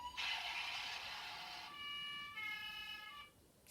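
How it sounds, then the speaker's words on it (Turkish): A Bruder toy ambulance's electronic siren wails loudly, switching from a harsh buzzing tone to a clear two-tone pattern, tinny and close. "Sonra siren sesleri var."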